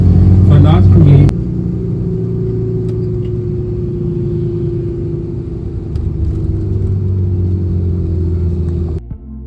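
A car's steady engine rumble and road noise carry through a drive on a city tour in Curacao, with a brief louder burst at the start and a voice talking over it.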